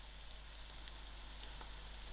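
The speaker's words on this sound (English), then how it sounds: "Fry out your boiled broad beans in the masala for a little longer so you can get this beautiful color into it." Boiled broad beans fry in masala for a broad bean chutney, giving a faint, even sizzling hiss that continues without a break, with an occasional soft crackle.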